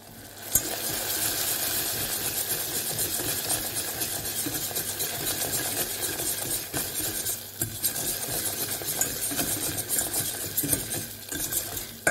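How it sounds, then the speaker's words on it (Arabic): Butter and a pinch of salt melt into caramel over medium heat while a utensil stirs continuously. A dense, steady sizzle runs under scattered close scrapes and clinks. No voices. "كنضيف هاديك الزبدة وقبصة ديال الملح وكنحرك مزيان حتى كيدوب معايا هاد الزبدة"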